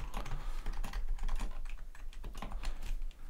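Steady rapid clatter of keys being typed on a computer keyboard, entering a name, close and fairly loud with irregular bursts and no talking.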